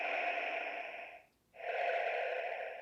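A LEGO Star Wars Smart Brick in Darth Vader's TIE Fighter plays Vader's mechanical breathing: one long inhale, a brief pause, then a long exhale, electronic and harsh, alone without talk.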